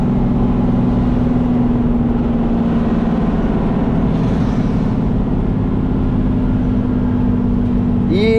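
A Chevrolet Silverado with an MWM six-cylinder turbo engine runs loud and close, its engine droning steadily with rising revs, while someone talks over it throughout.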